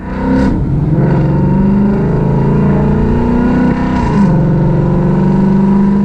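A car engine running on E85 fuel idles at about 600 RPM, a loud, steady low drone with a few slight blips in pitch and no talking.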